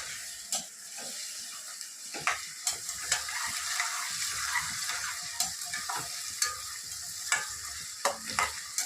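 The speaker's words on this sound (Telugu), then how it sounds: "ఉల్లిపాయలు, కరివేపాకు వేసాను." Onions and curry leaves fry in hot oil, giving a steady loud sizzle, while a spoon scrapes and clicks against the pan at irregular intervals, with no talking.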